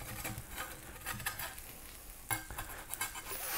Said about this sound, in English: Oh, she is sizzling and smells amazing.